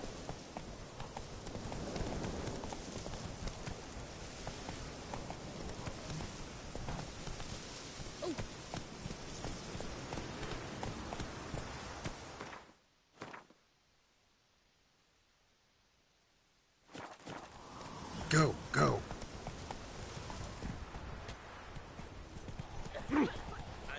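Hooves of the horse Roach gallop in The Witcher 3, a fast clip-clop rhythm over rustling ambience that drops to near silence for a few seconds, then resumes with louder hoofbeats and a snort.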